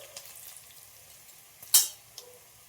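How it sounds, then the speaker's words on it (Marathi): Chopped onion frying in oil with turmeric for a red radish vegetable dish, a faint steady sizzle on low heat broken by one sharp clatter of a spoon against the pan and a lighter knock soon after. "हा कांदा लगेच भाजला म्हणजे लगेच लाल होतो नाही का, तेलामध्ये लगेच फ्राय होऊन जातो"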